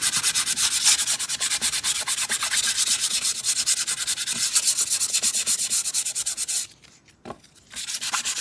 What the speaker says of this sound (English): when I want to integrate everything, I always use my sandpaper.